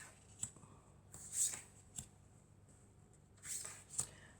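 Tarot cards drawn from a deck and handled, giving soft papery flicks and slides in several brief bursts, close and quiet, with no talking.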